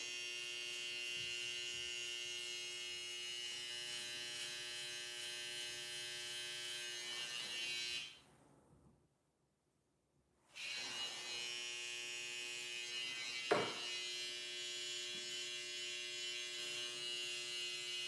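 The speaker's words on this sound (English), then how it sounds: "Probably the best trimmer" Electric hair trimmer buzzing steadily with a bright, tonal whine used for a self-fade haircut; it switches off for about two seconds and then runs again, close and loud, with no talk.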